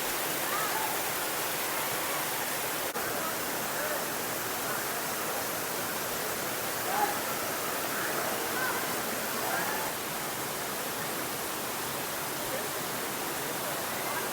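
Jalatarangini waterfall near Maredumilli roars as a steady, dense rush of falling water that holds evenly throughout, with faint voices at times.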